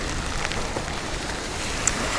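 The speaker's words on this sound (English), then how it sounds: "it's just raining all day, and it's kind of a nice steady rain" Steady all-day rain pours down in an even, unbroken wash of hiss with no pauses or talk, only a faint tick near the end.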